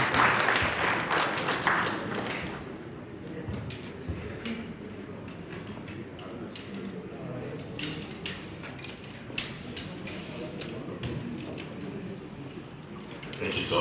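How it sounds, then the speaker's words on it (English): A renewed round of audience applause at a political stakeholders' interactive session, a strong burst of clapping at the start that settles into steadier, thinner clapping with crowd murmur and some talk for over ten seconds. "Can we give him another round of applause"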